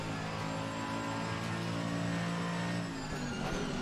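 A Mercedes AMG GT3 race car engine in a racing video game, a steady high-pitched drone holding revs, then shifting pitch near the end, loud and constant with no talking.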